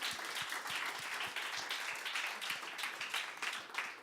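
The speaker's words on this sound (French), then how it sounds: "On l'applaudit." An audience at a public event claps for a participant who has just offered a proposal, a steady, fairly quiet wash of applause from a gathered crowd with scattered individual claps standing out.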